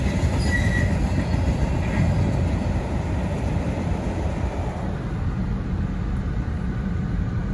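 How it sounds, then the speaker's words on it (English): A Metro North M8 passenger train passes at a road crossing, a loud, steady rumble of wheels on rail with faint squeal, holding for several seconds and easing slightly toward the end. "the new Metro North cars,"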